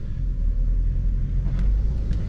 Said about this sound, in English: But if I give the car a little gas, it kicks in.